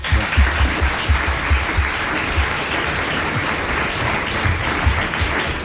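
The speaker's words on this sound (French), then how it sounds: "Vous l'applaudissez." A studio audience at a 1990 French television show gives a contestant steady, dense applause that fills the whole stretch at an even level, with no speech over it.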